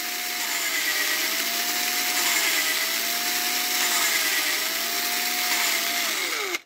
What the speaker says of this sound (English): you could hear the valve grinding.